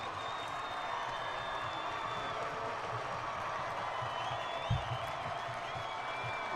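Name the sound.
football crowd cheering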